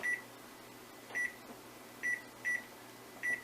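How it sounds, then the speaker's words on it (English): A kitchen timer beeps five times in short electronic bursts at uneven intervals, clear and moderately loud over a faint steady hum while chicken marsala is cooked. "Okay, that's the timer."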